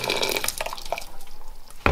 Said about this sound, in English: I have a boiled kettle of hot boiling water. I'm just going to pour it into a bit of a pan.